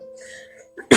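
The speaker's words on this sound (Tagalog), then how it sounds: "kaya medyo inuubo pa ako" A person with a lingering cough lets out one abrupt, close cough at the very end, following a quiet lead-in of faint tonal background sound.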